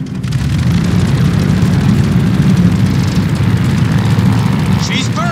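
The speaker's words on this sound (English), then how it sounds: "All right, do an engine run-up." A World War II fighter plane at the Battle of Midway in Call of Duty Vanguard runs up its engine on deck, a loud, steady, rumbling roar that holds throughout, with a brief chirp near the end.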